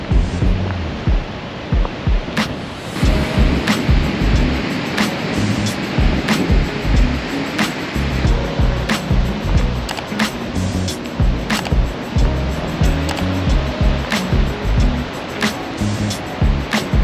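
Sea waves rolling onto Whitby beach, a loud continuous roar and wash of surf heard close by, with a few sharp clicks scattered through it and no talking.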